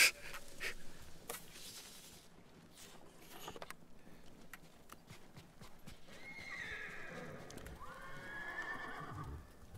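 A horse whinnies and snorts amid clip-clopping hooves and scattered clunks, with a second neigh rising near the end, in the video game Ghost of Tsushima.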